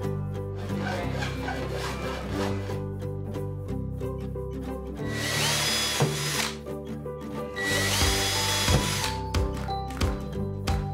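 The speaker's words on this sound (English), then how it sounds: "We drilled 1/8 inch holes in a piece of PVC pipe with a cap on the end." Power drill boring 1/8 inch holes into capped PVC pipe, a steady close whirring grind that runs continuously with louder bursts as the bit cuts through the plastic, no talking.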